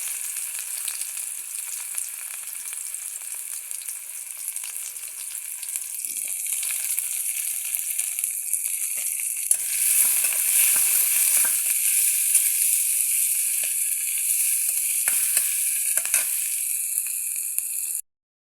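Garlic frying in hot oil in a pan for a radish-greens dish with dried red chillies, a loud, steady hiss and sizzle that continues evenly throughout with faint stirring, no talk.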